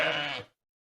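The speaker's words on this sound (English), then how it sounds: "Ram." A ram bleats once, a loud, close, wavering call lasting about half a second before cutting to silence.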